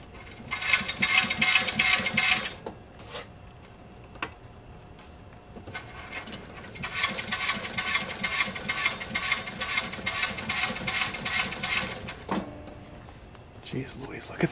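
A heavy-duty sewing machine stitches a jacket collar in fast rattling bursts, a long run, pauses, then another extended run with brief clicks between, close and fairly loud.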